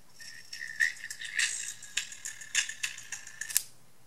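A high-pitched electronic tone crackles and buzzes harshly, broken by a run of sharp distorted pops and spits; fairly quiet, with no voices.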